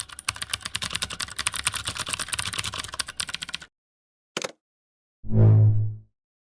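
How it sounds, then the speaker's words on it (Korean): Rapid, dense keyboard clatter for about four seconds, then it stops; a brief click and a short low thud follow. "나 키보드 치는 소리 개 빠른 거 들리지?"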